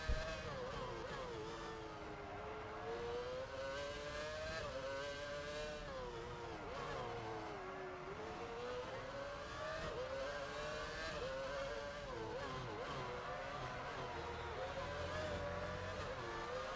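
Formula 1 car from the F1 Championship Edition video game howling through a qualifying lap, the engine note climbing and dropping steadily with gear changes and corners, loud and continuous for the whole stretch with no talking.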